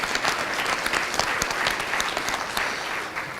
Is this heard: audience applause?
yes